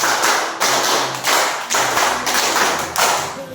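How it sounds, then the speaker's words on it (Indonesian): A fourth-grade class of schoolchildren claps in unison on command, producing a run of five or six rhythmic group claps with sharp onsets, near and loud, no voices over them. "Tepuk 5 2 kali."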